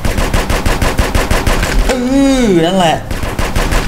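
Rapid bursts of automatic gunfire from GTA San Andreas rattle loudly in a steady stream, pausing briefly while a voice speaks over it before the shooting resumes.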